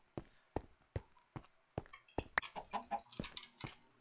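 Chickens in the video game Minecraft make a series of short clucks: sharp evenly spaced taps, then quicker, busier clucking, close and clear against a quiet background.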